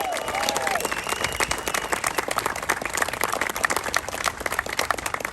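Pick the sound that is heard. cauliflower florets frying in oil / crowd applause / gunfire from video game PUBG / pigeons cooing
crowd applause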